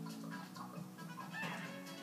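Chickens clucking in the LittleBigPlanet 2 video game, a steady busy murmur of clucks that stays fairly quiet throughout with no speech.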